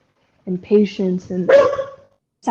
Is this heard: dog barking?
yes